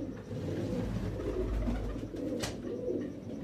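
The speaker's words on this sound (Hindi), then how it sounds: "मशहूर ज़माना अली वाले कबूतर।" Famous Ali wale pigeons cooing in soft, repeated low murmurs, steady and close, with no voices over them.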